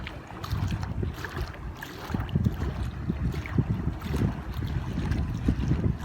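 An RC carp bait boat with a Falcon 5010 motor, carrying a 2.5 kg load on open water, putters along amid gusty wind buffeting and choppy lapping water, with no talking.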